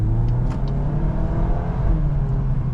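A 2025 Volkswagen Golf R hot hatch accelerating under moderate throttle, its engine giving a steady, close, continuous drone with a layered exhaust note and no voices over it.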